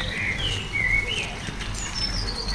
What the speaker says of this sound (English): I thought that bird wasn't real then.